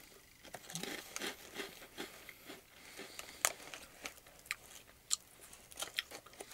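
Lotte shrimp and squid crackers crunch and crackle between the teeth in irregular, close-up bites, each crisp snap followed by softer chewing, with no talking.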